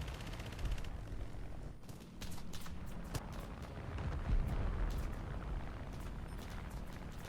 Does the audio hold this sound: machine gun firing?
yes